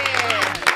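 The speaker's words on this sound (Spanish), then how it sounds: "Un aplauso para él." A brief burst of audience clapping welcomes a guest on an Argentine talk program, heard under a sustained voice or tone and lasting under a second.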